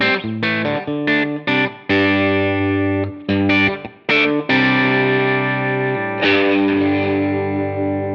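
Electric guitar on the bridge pickup through a Helix Essex A30 amp model, Vox-style tone, playing ringing chords and arpeggios with a slight overdriven edge, short pauses between phrases, then a long sustained strum.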